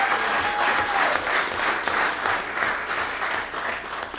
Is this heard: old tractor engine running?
no